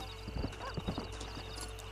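Horse hooves clip-clopping in Red Dead Redemption on PS3, several quick uneven hoof strikes close by over a steady game ambience, with a faint voice in the background.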